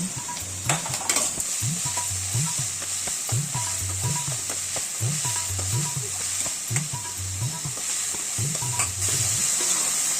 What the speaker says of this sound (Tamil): உப்பு சேர்த்தா வெங்காயம் சீக்கிரம் வதங்குங்கிறதுனால உப்பு சேர்க்கணும்.